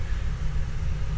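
A V8 car engine, newly fitted with coil-on-plug ignition coils, idles close by with a steady, low, even rumble that holds without revving.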